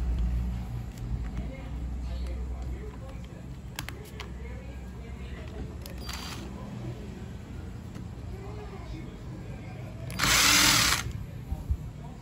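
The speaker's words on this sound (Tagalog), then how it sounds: "So ginamitan ko ng wireless drill." A cordless drill spins in short whirring bursts while opening a Toyota Fortuner starter motor, set against a steady low background hum, with one louder, longer whir near the end.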